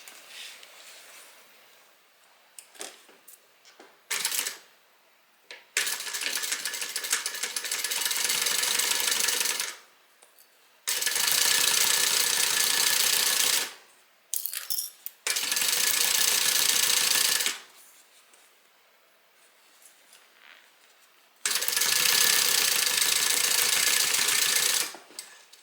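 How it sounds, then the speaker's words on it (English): Sewing machine stitching a seam closed in bursts of rapid, steady whirring, several runs of a few seconds each separated by quiet pauses with small clicks and handling sounds, close and clear. "we're going to stitch this closed"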